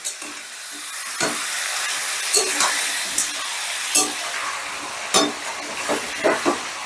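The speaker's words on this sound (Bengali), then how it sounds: "দেখো, চিকেনগুলোকে আমি হালকা লাল করে ভেজে নিয়েছি।" Chicken pieces fry in hot oil in a pan with a steady, bright sizzle. Sharp pops and spatters break through it at irregular intervals, and no one speaks.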